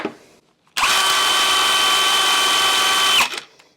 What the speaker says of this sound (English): I've got a cordless drill on max RPM.